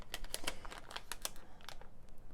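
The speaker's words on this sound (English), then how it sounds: "Sorry for all the crinkling, guys, but they don't want to come out." Plastic packaging holding small diamond painting rings crinkles as the rings are worked out, a quick run of sharp, close crackles and ticks with no talk.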